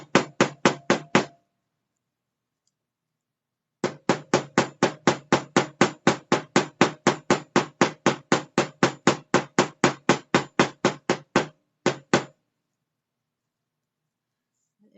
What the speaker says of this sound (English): The peen end of the ball peen hammer.